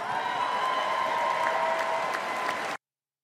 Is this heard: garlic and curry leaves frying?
no